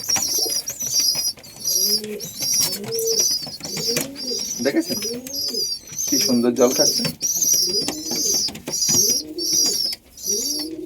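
Pigeons coo repeatedly up close in soft, rolling calls, with high chirping above them, while someone talks over the birds.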